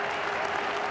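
Brief burst of applause from a cricket team on the field during a one-day international in England, a dense, loud clatter of clapping with crowd murmur behind.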